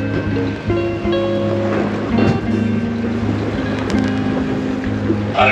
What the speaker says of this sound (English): this boat is going so fast.